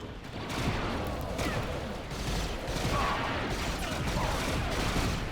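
Gunfire from a burst-fire weapon in the 2005 game Star Wars Battlefront 2, Mimban Imperial Defense mod, forms a dense, continuous layer of shooting and combat noise throughout, with no clear gaps between bursts.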